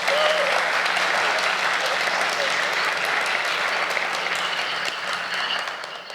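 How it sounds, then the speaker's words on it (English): An audience at the LibertyBits 2019 conference applauds for Richard Stallman's talk on mass surveillance, a dense, sustained clapping that fills the room evenly and tapers toward the end. "So I want to give Richard a round of applause for joining us."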